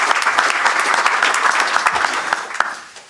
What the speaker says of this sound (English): let's give Wood a hearty round of applause.